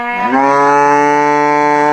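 A single long, loud cow moo with a rich harmonic tone, rising slightly at the start and then held steady, close by and alone, from cattle in a farm barn.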